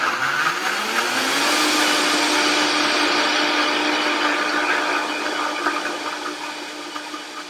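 Blender pureeing herbed olive oil with raw herbs, a loud continuous whirring motor that rises in pitch as it spins up, then holds steady and fades slightly toward the end, with no talking.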